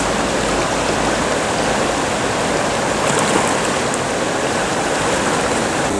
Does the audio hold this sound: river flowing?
yes